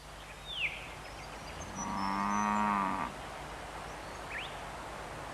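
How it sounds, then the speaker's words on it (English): Cattle in the Australian bush give a single clear, drawn-out moo at moderate distance, with a couple of faint bird chirps before and after against a quiet outdoor background. "Around midday, the cattle usually head down for a drink."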